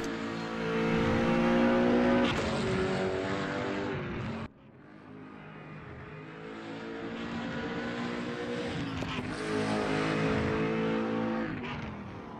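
A BMW Z4 race car engine in the RaceRoom racing game, at a multiclass fun event at Bilster Berg, roars loud and steady, with a brief drop at a gear change before it climbs back to high revs.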